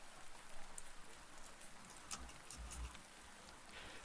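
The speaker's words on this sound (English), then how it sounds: "The rain continues to pour as silence falls over the conversation" Rain pours steadily and softly at a distance, a continuous patter with a few brief louder thumps and no talk.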